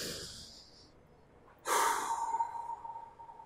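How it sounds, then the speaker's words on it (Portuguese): A child draws in one deep breath during a guided relaxation exercise in a religious education lesson, after a faint breathy sound, then lets it out in a long, audible exhale that fades slowly. "Chefinho mandou fazer uma respiração bem profunda."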